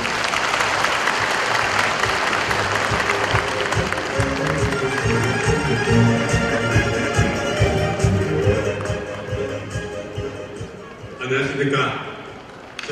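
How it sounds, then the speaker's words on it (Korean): An audience at an 800th-anniversary commemorative ceremony claps to welcome a university professor to the stage. Dense, sustained applause runs for about eleven seconds, then thins and fades, with a brief final burst and some voices mixed in. "여러분, 환영의 박수 부탁을 드리겠습니다."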